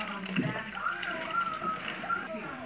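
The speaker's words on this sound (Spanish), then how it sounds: "llenamos el agua, que es la cual vamos a usar para el jugo, con mucho cuidado." Water is poured carefully into a container for making juice at home, a soft continuous sloshing and trickling heard under a person talking.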